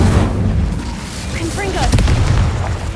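An Incendio fire spell cast in Hogwarts Legacy, heard as a booming, crackling magical burst over a dense, noisy background with a few short sweeping tones.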